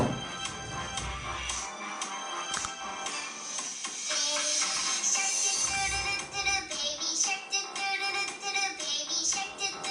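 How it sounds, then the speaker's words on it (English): Music plays continuously from a phone speaker inside an open box, bright and busy with a thin, tinny quality, fairly loud and steady for the whole stretch. "We're going to play the music inside the box from the cell phone without a lid"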